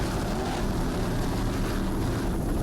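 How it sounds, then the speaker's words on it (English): Helicopter flying over an offshore powerboat race at the 2003 Brick Offshore Grand Prix in Point Pleasant, New Jersey, with racing boats below: a steady, loud, dense roar of rotor and engine noise without a break. "Back to helicopter shot, Briaski."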